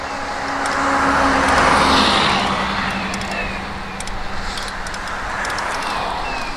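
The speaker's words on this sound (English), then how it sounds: "now we got a bus coming this way" A bus on a quiet road approaches and passes close by, its engine and tyre roar swelling to a loud peak, then easing into a fading rumble as it moves away.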